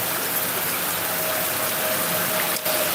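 Heavy rain pouring down outdoors during hot weather in northern Bangladesh, a dense, steady, loud wash of noise with one brief dip, no voices.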